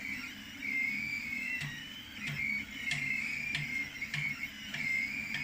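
A 3D printer extruder that is skipping and failing to feed filament while printing a skirt, giving a steady whirring hum broken by sharp periodic clicks, roughly one every half second, close and moderately loud with no talk.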